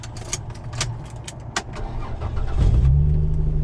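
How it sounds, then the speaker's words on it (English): A 2001 Plymouth Prowler roadster is started: a few sharp clicks and cranking give way, after about two and a half seconds, to the engine catching and settling into a loud, steady idle close by. "We're gonna go ahead and crank the car up"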